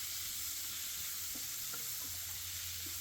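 Ingredients sautéing in a hot pan for a spiced gravy that will later be ground smooth, giving a soft, steady sizzling hiss with faint stirring clicks throughout, no voices.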